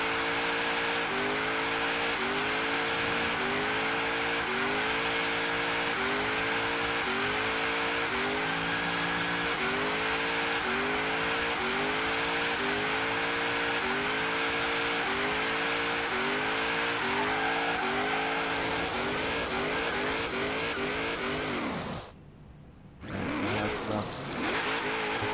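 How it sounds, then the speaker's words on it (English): A 1956 Ford F100 doing a long tire burnout in Forza Horizon 3, with the engine revving in repeated rising pulses over continuous tire squeal, loud and close, then a brief dropout and a final rev. "I'm gonna try to burn through the tires."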